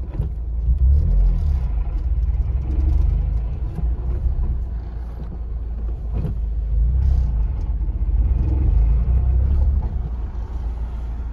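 Mazda NC Miata on the road with a new stage 1 EXEDY clutch and throwout bearing, a steady low engine and road drone from inside the car, with a gentle rise and fall as it accelerates and eases off.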